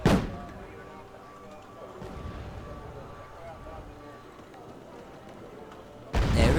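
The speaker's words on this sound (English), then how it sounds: "Mortars are a great help." Distant mortar rounds in a Wargame Red Dragon 10 vs 10 battle land as muffled booms, with a sharp burst at the start, softer rumbling impacts in between and another loud blast near the end.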